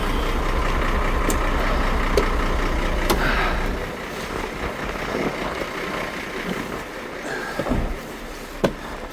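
A truck engine rumbles steadily as the truck moves forward, loud at first and then easing to a lower running drone with a few faint clicks and knocks.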